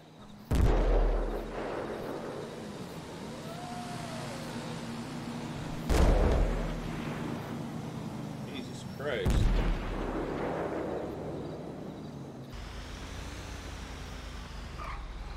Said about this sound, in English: probably watch some more fireworks if they keep shooting them off